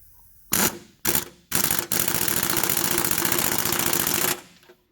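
An impact wrench torques a spindle bolt on a John Deere mower deck. Two short bursts are followed by a sustained rattling hammer of about two and a half seconds, loud and close.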